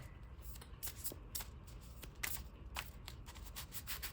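Playing cards being riffled and shuffled, a series of crisp fluttering bursts repeating unevenly over a low background hum.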